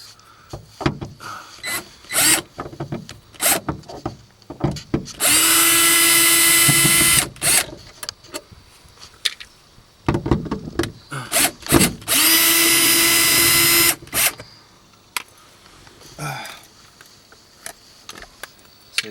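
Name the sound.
power drill removing Phillips screws from a 1997 Honda Civic headliner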